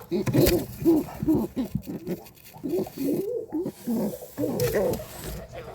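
Soft, repeated low cooing of a female pigeon in a pigeon loft, in rhythmic bursts, close by, with rustling between calls.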